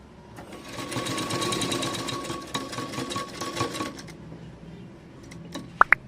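A sewing machine stitches a concealed side zip into a blouse, running in a fast steady whirring rattle for about four seconds before slowing and stopping, followed by a couple of small metallic clicks.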